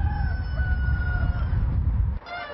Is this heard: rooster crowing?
yes